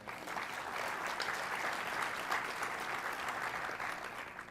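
A conference audience at an opening plenary session gives a sustained round of applause for a group of mayors, the clapping dense and even, with a slight swell midway.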